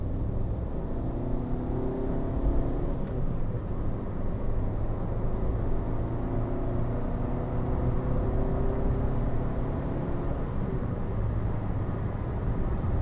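A 2016 Fiat 500 1.2 Lounge three-door hatchback accelerates, its engine heard as a steady, dense cabin rumble that rises gently through the pull with no talking.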